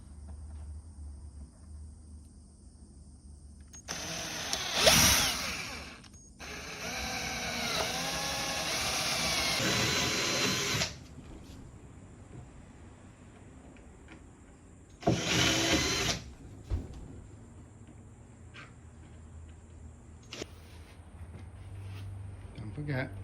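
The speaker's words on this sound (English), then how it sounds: "Okay, so we're going to drill the holes." A power drill bores holes in the timber of a dog's whelping box, with two sustained whirring bursts and a shorter one, close and moderately loud, separated by quieter pauses.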